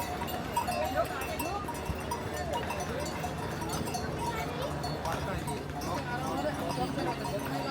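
Horses walking on the rocky Kedarnath trek, hooves clip-clopping in an uneven rhythm with bells jingling, amid a busy mountain path where people talk in the background.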